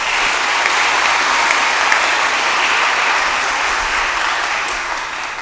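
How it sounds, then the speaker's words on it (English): Graduation hooding ceremony audience applauding in a continuous, even roar of many hands, loud and sustained throughout with no voices on top. "Please give them another round of applause."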